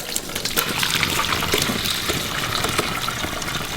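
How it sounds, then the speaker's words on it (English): Chicken stock pours steadily through a coarse strainer, a continuous splashing, trickling rush that stays even and close for the whole stretch. "pour off that liquid."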